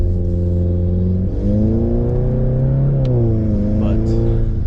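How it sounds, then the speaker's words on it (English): A turbocharged VW GTI accelerates through the gears with engine pitch rising and dropping at each shift and a whooshing turbo intake note, loud and close from inside the cabin. "The intake honestly never gets old on this car, just hearing the turbo go."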